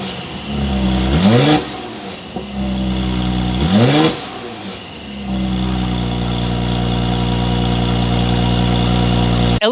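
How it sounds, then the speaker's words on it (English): An engine turns over and catches, then revs up sharply twice with rising whines before settling into a steady, loud idle close by, from a 2021 Mercedes-AMG GLC 43 SUV. "start it up, and give it some revs."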